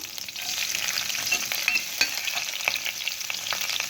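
Thinly sliced onions hit hot oil already frying green chillies in a pan, giving a loud, steady sizzle with scattered crackles and the scrape of stirring throughout, no speech.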